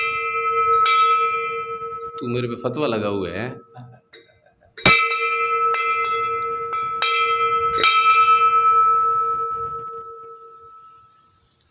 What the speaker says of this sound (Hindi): ये घंटी मैं बजा सकता हूँ?